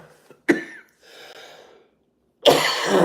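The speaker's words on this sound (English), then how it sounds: "Oh man, stupid cough." Two sharp, close coughs separated by a raspy breath, the second one louder and harsher.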